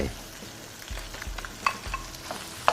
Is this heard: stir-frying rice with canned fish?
yes